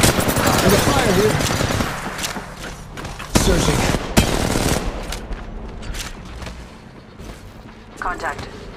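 Rapid automatic gunfire from an Apex Legends Mobile match, loud bursts and booming shots in short clusters that fade into quieter game noise, with a character's voice briefly heard.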